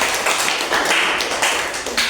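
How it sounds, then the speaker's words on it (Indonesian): Elementary school pupils in a classroom clap for a presenting group, a brisk, close burst of many hands slapping in uneven, overlapping rhythm that continues throughout the brief moment. "Kita berikan dulu tepuk tangan."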